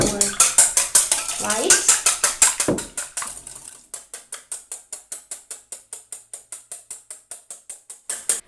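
A metal whisk beats egg whites for tiramisu in a bowl, a steady fast clatter of rhythmic strokes throughout, with a brief spoken remark near the start.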